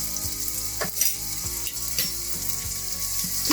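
Split green chillies and curry leaves frying in hot oil for a Kerala-style vegetable stew, giving a loud, continuous close sizzle with a few soft stirring knocks and no voices.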